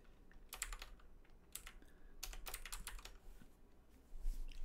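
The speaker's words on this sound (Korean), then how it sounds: "일단은 아무렇게나 입력을 해볼게요." Keys clatter on a computer keyboard during AutoCAD layer entry, several quick bursts of close, soft clicks separated by short pauses, faint and without any voice.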